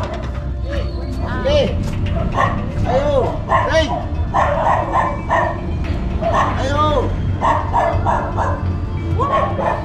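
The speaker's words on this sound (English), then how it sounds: "beware of dogs in the Philippines." Dogs barking and yipping at a house in the Philippines, several sharp barks in bursts across the clip, fairly close and loud, with people talking over them.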